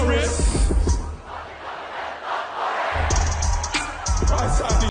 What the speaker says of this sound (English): So that was him getting the crowd's chant